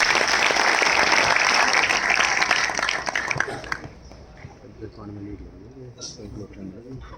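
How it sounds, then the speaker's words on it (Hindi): Loud applause from an audience at a stage event, dense clapping for about four seconds before fading into scattered claps and murmuring. "जोरदार तालियों से"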